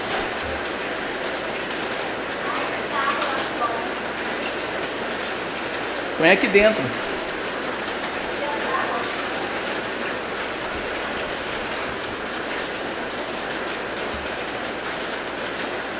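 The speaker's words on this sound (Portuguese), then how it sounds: "É a chuva de granizo." Hail drums steadily on a tiled roof above a styrofoam ceiling, a dense continuous rattle that fills the room throughout, with a brief louder thump midway and a person speaking softly underneath.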